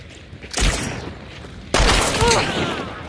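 Two loud bursts of gunfire in the video game Hunt: Showdown, one near 0.6 seconds and another around 1.8 seconds, each with a booming report and ringing tail, over low background game ambience.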